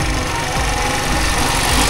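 A Honda CD 70 motorcycle, 2025 model, runs on a mountain road, its small single-cylinder engine a steady, loud, close hum and rumble throughout with no talking.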